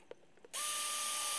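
A drill bores holes in a plastic Halloween planter: a couple of faint clicks, then a sudden loud, steady whirring drone close by with no talking.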